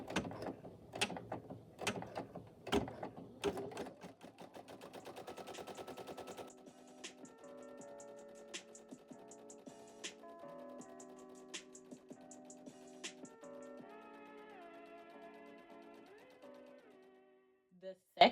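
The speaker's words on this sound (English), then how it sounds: "press the green button to start the embroidery machine, and it is going to stitch the tack down and the satin border for the first layer" An embroidery machine stitching a tack-down and satin border on an appliqué shirt in a 5x12 hoop, giving a fast mechanical rattle that shifts to a steadier rhythmic ticking and whirring, close but fairly quiet.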